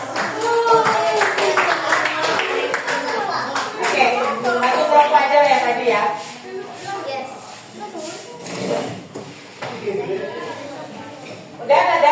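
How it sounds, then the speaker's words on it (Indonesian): Students applaud after a class presentation in a school classroom, a scattered, moderate round of clapping mixed with ongoing talking voices. "Beri aplaus."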